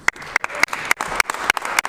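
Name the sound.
applause in the House chamber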